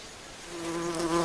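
A mud wasp buzzes close by, a steady drone that swells louder as it continues alone.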